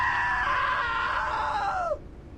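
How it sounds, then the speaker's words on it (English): A loud, drawn-out scream from a character in the video game What Remains of Edith Finch. It holds steady for about two seconds, then drops in pitch and cuts off abruptly into quiet room tone. "Now that was a great scream."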